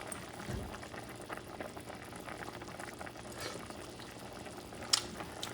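A pot of alligator stew bubbles quietly at a low simmer, soft irregular popping and gurgling with a faint clink near the end.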